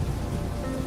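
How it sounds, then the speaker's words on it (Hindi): Rain falls in a dense, steady hiss of drops striking a surface, brief and unbroken. "बारिश तेज हो जाती है"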